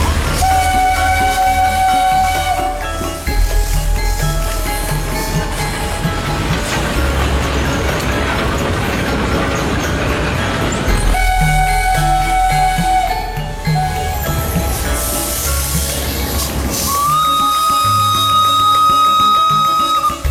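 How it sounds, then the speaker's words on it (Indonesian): The Jaladara steam train departs toward Purwosari, loud and close, with a long whistle or horn, heavy rumbling and clanking from the wagons, and further whistle blasts near the end. "Setelah kereta Jaladara melanjutkan perjalanannya kembali ke Purwosari"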